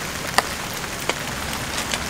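Rain patters on a tarp pitched over the open trunk of a self-built Starex camper van at a campsite in Naju during monsoon season: a soft, steady hiss with a few distinct drops, close and continuous with no talk.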